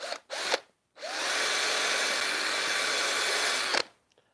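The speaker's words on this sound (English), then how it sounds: "I hadn't actually put the hole in here with the small drill bit." A power drill with a small bit bores a hole in the back of a wooden phone stand in a wood shop: two brief bursts, then a steady, loud whirring run of about three seconds that cuts off sharply.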